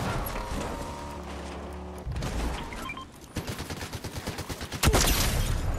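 Gunfire from a sniper rifle in the Fortnite video game, with a sharp repeated burst of shots mid-clip and a loud final crack, set among other game sounds and without talk.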